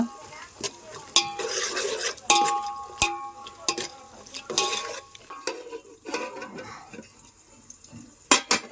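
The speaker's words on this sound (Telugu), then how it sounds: "అలాగే క్యారెట్ ముక్కలు కూడా వేసేస్తున్నానండి" Carrot pieces go into a pot of pulao being cooked, with repeated sharp metal clinks of a spoon against the pot, stirring scrapes and faint sizzling, close and uneven in rhythm.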